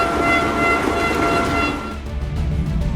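Express train rushing through a level crossing, a loud, close and continuous roar with a steady tonal ring that drops away sharply near the end.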